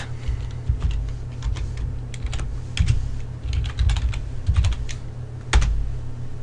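Someone types a Linux terminal command on a computer keyboard, producing close, irregular clicks and clacks in short bursts with a few louder key strikes, over a faint steady hum and no talking.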